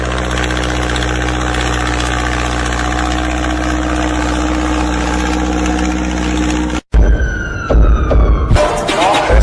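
A Swaraj tractor engine idles loudly in a steady, throbbing drone for several seconds, then cuts abruptly to a burst of different whining, rising machine noise.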